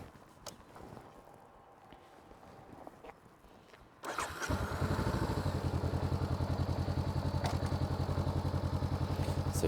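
A motorcycle on a training course for the A2 licence: quiet shuffling and clicks, then the engine fires up and settles into a steady, rapid idle thrum close by, continuing to the end without speech.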